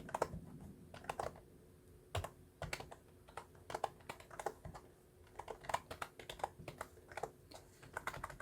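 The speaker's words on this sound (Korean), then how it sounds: "제가 중간에 오타 확인은 하지 않고 그냥 쭉 내용을 입력을 할게요" Steady typing on a computer keyboard, a quick irregular patter of soft key clicks, close and quiet with no one speaking.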